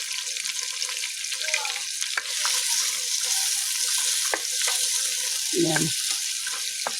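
Onions fry in oil in a pot for Arabic chicken biryani, a steady bright sizzle that runs throughout with occasional clinks of a stirring spoon and brief spoken words.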